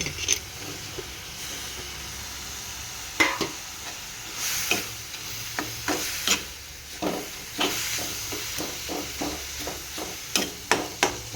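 A tomato stirred into sizzling oil and spices in a pan for chakrantha curry, with a steady low hiss under a rhythmic run of spoon scrapes and taps on the pan, close and clear with no talk.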